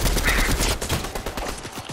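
Dense bursts of rapid gunfire from a Fortnite match, loud and close, with overlapping shots forming a continuous fusillade across the whole stretch.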